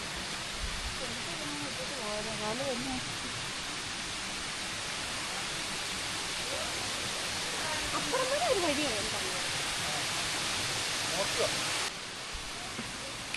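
Aruvikkuzhi waterfall at Thadiyoor, Pathanamthitta, pours over rock, a constant broad rushing roar close by while a person talks over it.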